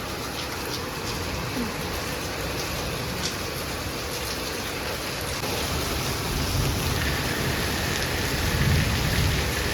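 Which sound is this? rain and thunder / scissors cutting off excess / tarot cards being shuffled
rain and thunder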